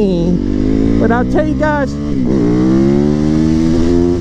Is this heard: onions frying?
no